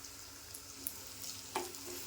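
Kashmiri red chilli and a hot household spice masala sauté in a pan for shev bhaji, a soft steady sizzle with two brief scraping stirs, quiet and close, with no talking.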